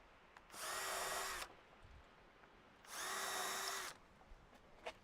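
A power drill drives screws into a gate latch in two separate bursts of about a second each, a loud, high whirring whine that stops between runs, with no talk.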